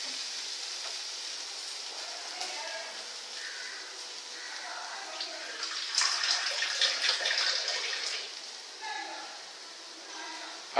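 Water poured into a sizzling pan of chilli gravy for mixed dal on low heat, a steady hiss swelling into a louder rushing burst midway before settling, with a voice speaking in places.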